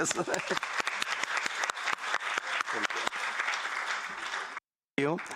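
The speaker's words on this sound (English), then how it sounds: "We recognize your work with an applause." A congress audience claps in recognition, a run of distinct, fairly sparse claps close by, with a voice speaking over them and a brief gap of silence before the speech carries on.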